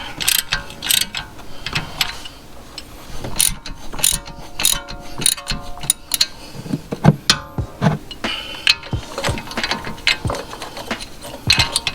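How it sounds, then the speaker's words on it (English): A ratchet fitted with a 5/8 socket works loose a bolt on a BMW during a spring-lowering job, giving a loud, close run of rapid metallic clicks in uneven bursts, with clanks of tools and no talking. "So you need a 5/8 socket to loosen it."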